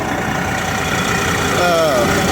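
A turbocharged engine runs steadily with the hood open, a broadband mechanical drone throughout, joined near the end by a rising whine.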